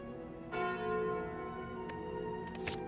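A bell chime sounds in Slay the Spire as Curse of the Bell is obtained, ringing tones over sustained game music, with a few brief bright accents near the end.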